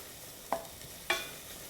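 Onion and garbanzo beans sweating in a pan, a faint steady sizzle broken by two brief clinks of a utensil stirring against the pan, with no talk.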